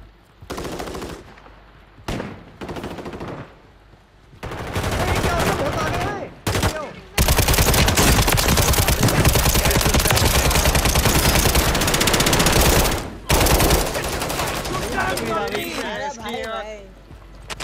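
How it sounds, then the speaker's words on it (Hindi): Call of Duty Warzone gunfire bursts and rattles close and loud, with sustained automatic fire dominating the middle and shorter volleys around it, while a player talks over the shooting. "यहाँ उधर से कोई फायरिंग कर रहा"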